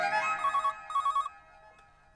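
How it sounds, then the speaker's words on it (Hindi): A telephone rings on the other end of a call in a Hindi sitcom scene, giving two clear electronic ring bursts followed by a short quiet gap. "मैं क्या है दरअसल स्कूल में ही फोन लगा रहा हूँ"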